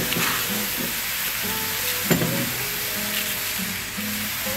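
Rice poured into a hot pot for a Trinidad-style bhaji cook-up with smoked bones, giving a steady sizzle and frying hiss with stirring scrapes and one sharp clatter midway, no talking.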